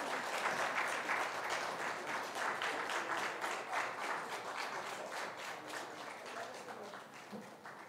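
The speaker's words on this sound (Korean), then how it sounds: "큰 박수로 함께 축복하고" Applause from a church congregation at an early-morning dawn prayer service for students, a steady wash of many hands clapping that stays sustained and fairly loud before slowly easing off toward the end.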